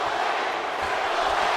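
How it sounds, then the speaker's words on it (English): Dense, steady crowd roar from a WWE 2K18 wrestling video game match, a loud arena audience chanting in support of Triple H, continuous with no breaks. "the crowd chanting, "You still got it." A very pro Triple H crowd."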